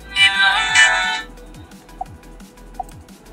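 A phone ringtone played back in a music player app: a bright electronic melody of two quick bursts over about a second, then near-silence with a couple of faint clicks.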